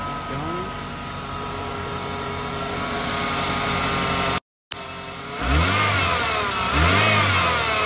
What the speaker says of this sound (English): That's what it sounds like with the turbocharger in it.